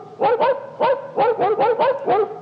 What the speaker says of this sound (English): you can just record a dog sound